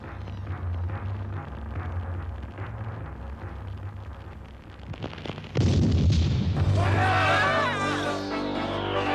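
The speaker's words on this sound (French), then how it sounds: "Tire donc un coup de semonce." A cartoon cannon fires a warning shot: a sudden heavy boom cuts through rumbling background noise partway in, followed by a long roaring, crackling tail, with animated dialogue and music around it.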